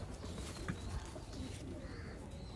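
Pigeons kept by a Punjabi pigeon fancier coo softly in the background, low and muffled, while someone talks over the sounds.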